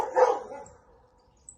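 Dogs bark in a short burst at fairly close range outdoors on an overcast morning in Antônio Olinto, Brazil, the sound fading quickly afterward with no one talking.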